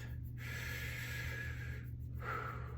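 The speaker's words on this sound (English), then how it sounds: "And 3 breaths in through your mouth." Two drawn-in breaths through the mouth, each a hissing inhale lasting over a second, close and alone over a steady low hum.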